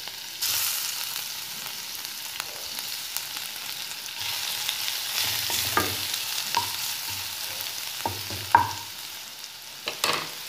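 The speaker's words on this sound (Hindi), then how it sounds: "देखिए तेल गर्म हो चुका है, अब इसमें आप लहसुन को डाल दीजिए।" Garlic sizzles in hot oil in a pan while cooking Chhattisgarh-style kachnar leaf bhaji, a steady crackling fry with occasional scraping stirs and small clinks, close and without talk.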